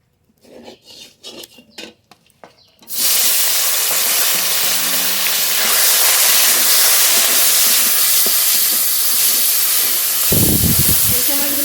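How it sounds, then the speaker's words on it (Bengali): Khoira fish go into hot oil, and after a few quiet seconds a loud, dense frying hiss bursts in and holds steady, close up, with a brief low clatter near the end. "আলাদা করে তেল দিয়েছি খয়রা মাছগুলো ভেজে নেব"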